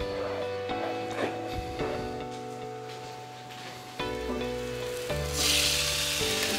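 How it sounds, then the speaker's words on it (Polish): Pork loin frying in a pan with onion and garlic, giving a loud, continuous sizzle close up with occasional stirring and background music. "smażymy razem z naszą cebulą i czosnkiem"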